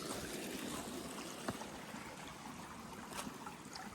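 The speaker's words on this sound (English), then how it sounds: "I guess I should document the first water crossing" Steady rushing stream at an Appalachian Trail water crossing, a continuous broadband wash of flowing water close to the microphone with a couple of brief splashes, no talking.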